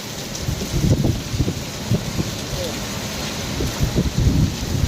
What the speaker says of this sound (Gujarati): વરસાદ કડાકા ભડાકા